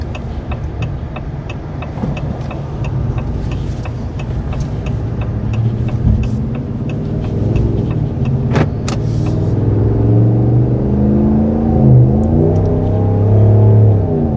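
A 2026 RAM 1500 HEMI pickup towing a load accelerates steadily, its engine growling loud and close with a rising, labored tone throughout.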